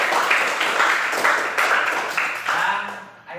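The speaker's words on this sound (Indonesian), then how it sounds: "Tepuk tangan untuk semua." A group breaks into applause, a noisy wash of clapping that swells in waves and then starts to fade.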